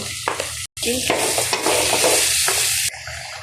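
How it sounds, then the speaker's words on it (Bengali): Half-boiled potatoes with mixed spices and chili being stir-fried in a pan, a loud dense sizzle with scraping spatula strokes, a brief dropout near the start, close up with no speech. "আলুটা দিয়ে কষিয়েছিলাম"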